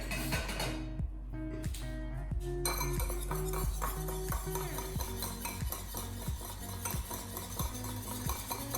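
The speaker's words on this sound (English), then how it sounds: "I am going to grab this whisk" Cream cheese batter for keto cloud bread is whisked in a bowl, with quick repeated metal clinks and scraping in a steady rhythm, close and fairly quiet.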